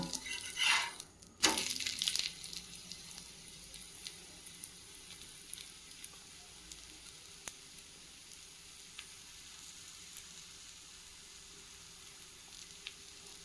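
Ragi adai frying on a pan, a loud clatter and sizzle burst near the start as it is turned, then a soft, steady sizzle that continues with a few faint ticks, with no voices.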